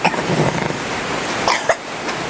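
A child gives a few short coughs in quick succession over a broad, hissy background on a rainy day, the bursts brief and close.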